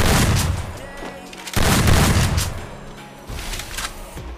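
Rapid gunfire bursts from the Free Fire battle royale game during a custom rushing match, loud dense volleys with a short break, then another strong burst and a third later.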